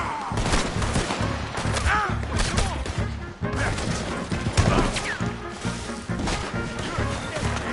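A chaotic Red Dead Redemption shootout, with rapid overlapping gunshots and crashes from several shooters, horse hooves clattering underneath and shouting voices mixed in, loud and continuous throughout.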